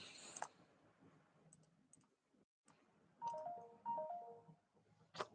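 A phone's notification chime sounds as a few short, clear tonal beeps stepping in pitch near the end, after scattered soft clicks and a brief sharp click at the start, fairly close with no talk.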